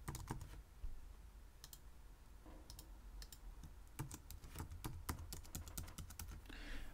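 Typing an ID and password on a computer keyboard: scattered, crisp key clicks, some in quick runs and some single taps, close and fairly quiet.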